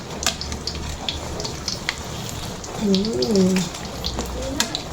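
Turon, saba banana rolls in spring-roll wrappers, fry submerged in hot oil with a steady crackling sizzle and scattered pops, while a voice speaks briefly over the cooking.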